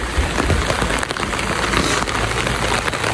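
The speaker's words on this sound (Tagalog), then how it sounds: "Maulan na kalangitan dito po sa Bukidnon." Steady rain falls over Bukidnon, a dense, even hiss of drops hitting surfaces close by, continuous and fairly loud throughout with no voices.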